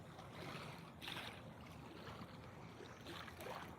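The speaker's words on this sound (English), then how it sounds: "You can hear the waves splashing just ever so gently this morning." Gentle waves lapping and splashing on a shore on a calm morning, a soft continuous wash with small surges, fairly faint and close, no talk.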